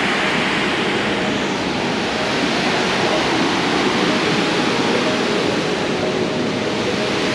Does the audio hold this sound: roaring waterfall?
yes